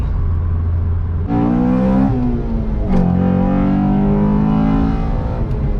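An EK4 VTEC engine revs with a strong induction sound, a loud close whir with rising and falling pitch that climbs sharply in two surges after an idle start.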